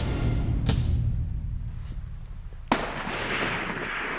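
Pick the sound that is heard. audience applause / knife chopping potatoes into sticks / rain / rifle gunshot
rifle gunshot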